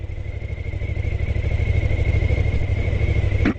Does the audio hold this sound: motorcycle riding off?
yes